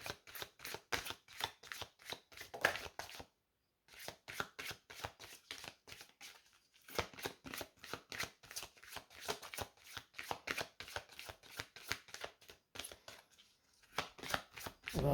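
Playing cards shuffled over and over in steady riffling bursts, close and quiet, with a short pause before the shuffling resumes in rapid rhythmic flutters until the end.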